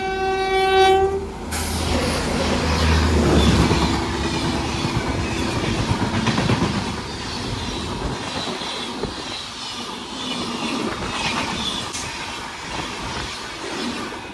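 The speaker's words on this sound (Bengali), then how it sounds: "পাশ দিয়ে কোনো একটা ট্রেন ওভারটেক মারছে, দেখেন।" A train overtakes alongside on the railway line near a locomotive bound for Sealdah. A horn sounds at the start, then the loud steady rumble and clickety-clack of passing rail cars continues throughout, with no talking.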